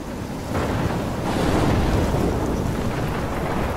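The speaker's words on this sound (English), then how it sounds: "I'm trapped in a storm?" Thunderstorm wind and crashing ocean waves in a stormy coastal scene of the video game Life is Strange: a continuous loud roar of surf and wind that swells after the first half second and never lets up, with no voices.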